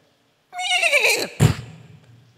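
A voice imitates a horse neighing, giving one loud, quavering whinny up close, followed by a short breathy snort and a fading tail, with no other talk.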